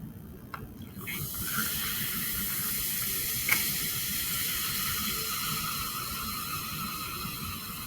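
Yellow vinegar fizzing in a chemical reaction, a steady close hiss and sizzle running throughout with a brief squeak partway through, no talking.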